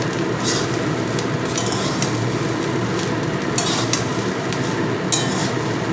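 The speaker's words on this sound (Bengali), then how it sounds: "এবার দিয়ে দেব ভেজে রাখা সবজি আর আলু দিয়ে নাড়াচাড়া করতে হবে" Fried vegetables and potatoes are stirred into semolina pulao in a pan, producing a dense, continuous sizzle and rustle close by, punctuated by several light scraping clinks of the spoon.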